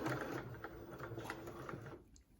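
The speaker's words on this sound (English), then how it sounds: "I'm going to start my seam by doing a little back stitch here." Home sewing machine stitching a fabric seam for an infinity scarf, starting with a few forward stitches before a back stitch; a steady, close mechanical whirring runs continuously, then stops near the end.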